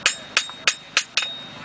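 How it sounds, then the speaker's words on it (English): A farrier's hammer striking heated steel during a demonstration in Shelburne rings out in five sharp, close metallic blows at a steady, even rhythm, each with a brief ringing decay and no voices. "As I'm striking, every now and then you'll hear that tap."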